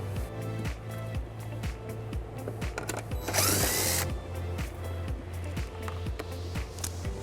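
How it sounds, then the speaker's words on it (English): A power tool with an 8mm socket backs out a bumper screw on a 2022 BMW X3, a steady mechanical whir with regular clicking pulses and a brief louder burst midway, nearby and without talk. "Now this exposes a screw that we're going to remove using an 8mm socket."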